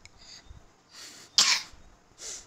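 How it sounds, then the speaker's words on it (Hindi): Several short coughs in a row with gaps between, a couple sharper and louder than the rest, close by with no talking. "देखो खांसी, कितनी खांसी आ रही है"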